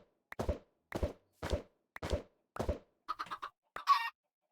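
Chickens in the Minecraft SevTech Ages modpack give a series of short clucks and soft thuds in a steady rhythm, about seven bursts close and clear with silence between, no talk.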